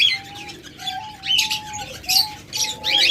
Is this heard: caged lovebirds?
yes